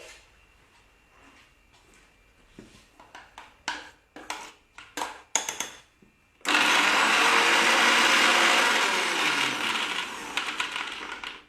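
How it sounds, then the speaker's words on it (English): Several sharp clicks and taps come first, then a mixer grinder grinding paan leaves with milk starts up with a loud continuous whirring roar that runs to the end. "now I'm grinding the pan leaves with a little bit of milk"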